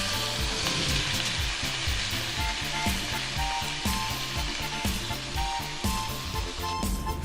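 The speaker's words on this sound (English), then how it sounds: "Add 2 tablespoons olive oil, sliced mushroom," Sliced mushrooms sizzle in olive oil in a pan over medium-high heat, a steady close frying hiss with small crackles and spatters running throughout, with no talking.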